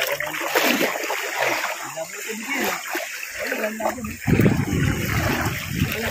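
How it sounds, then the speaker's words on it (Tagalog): Strong river current rushing and splashing nearby in Indang, Cavite, a loud continuous wash of water with bursts of splatter, while voices talk intermittently over it. "Ayan na, lumakas na ang agos papunta rin."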